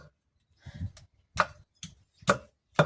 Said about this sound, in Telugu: అల్లం వెల్లుల్లి పేస్ట్ అవన్నీ నూరి పెట్టుకుంటున్నాను రెడీగా